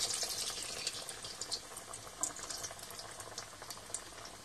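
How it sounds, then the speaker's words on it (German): Camembert deep-frying in hot oil in a pot rather than a fryer gives a soft, faint bubbling fizz with scattered tiny crackles, steady and close, with no talking. "Und dann gebe ich vorsichtig den ersten Camembert ins Öl."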